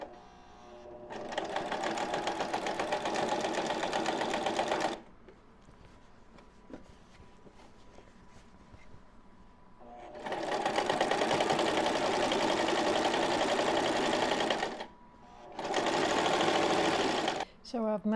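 Sewing machine stitching decorative thread in fast, steady whirring runs, close and loud, with quiet gaps between three stitching bursts.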